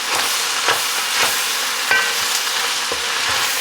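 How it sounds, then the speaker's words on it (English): Corn and bacon fry in a pot, a bright, steady sizzle with soft scraping stirs recurring every second or so, close and alone. "We're frying the corn and bacon."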